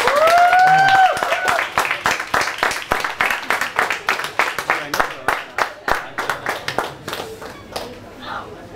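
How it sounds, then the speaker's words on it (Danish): An audience claps for a participant at a Rema 1000 race, starting as dense applause under brief cheering, then thinning into slower, fading individual claps. "Kan vi lige give ham en øh, bifald?"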